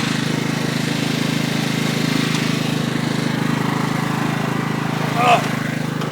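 A lawn mower engine runs at a steady, droning idle close by, with a faint voice briefly audible over it near the end.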